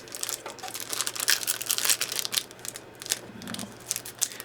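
Pokemon card packaging being cut open: close, crisp crinkling and crackling of plastic wrapper in quick irregular bursts, with brief rustles between.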